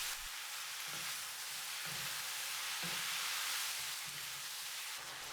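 Tomatoes with salt and ground pepper sizzling in a pan, a steady hiss of frying with soft rhythmic scrapes and stirring thumps about once a second, close and even.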